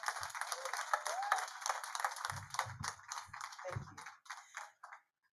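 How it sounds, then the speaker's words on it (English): Forum audience applauding after a speech, a dense burst of clapping with some low thumps that tapers off and stops abruptly near the end. "A round of applause again for Madam Chair."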